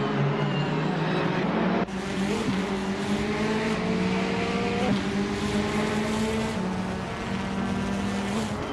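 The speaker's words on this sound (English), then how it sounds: "The track's tight corners and short straights are favoring the more agile cars, helping drivers like the Porsche and Ferrari stay close." Video game race cars, including Porsche and Ferrari, scream around a tight track with short straights, engines droning loud and steady with pitch shifts at gear changes, and a sharp cut in near the start.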